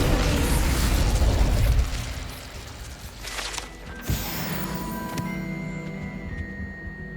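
An Incendio fire spell cast in Hogwarts Legacy on PS5 erupts as a loud, rushing burst of flame for about two seconds, then fades into quieter, crackling game ambience with small mechanical clicks.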